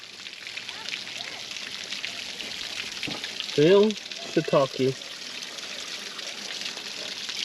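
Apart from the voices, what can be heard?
water trickling out of a machine's radiator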